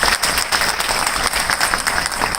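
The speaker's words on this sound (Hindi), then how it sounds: "जोरदार तालियां होनी चाहिए" Loud, steady applause from a crowd, dense clapping that holds throughout.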